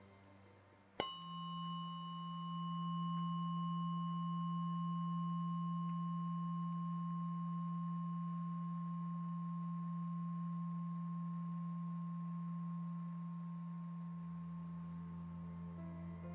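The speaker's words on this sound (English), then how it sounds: "The first frequency is 174 Hertz, and it sounds like this." A 174 Hz tuning fork is struck once near the start and rings as a steady, pure sustained tone that fades only slightly over many seconds, with a faint higher overtone and no voices.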